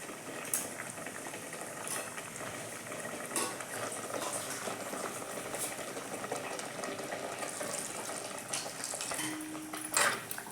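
Water bubbles steadily in a pot, a continuous soft rolling boil with occasional clinks of a spoon or utensil against metal.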